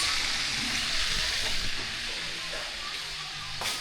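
Food frying in hot pork lard with fish sauce added gives a steady, close hiss and sizzle that holds for about four seconds, with a brief sharper burst near the end.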